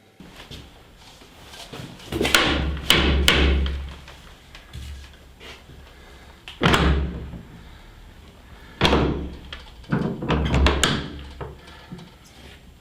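Someone knocks on a wooden wicket gate in several heavy, hollow bursts of blows spread across the span, with quieter gaps between them and no speech.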